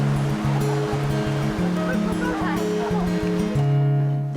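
Sea surf washes steadily as a group of year-round women swimmers wade into the sea, a continuous close rush of water under a voice speaking over music.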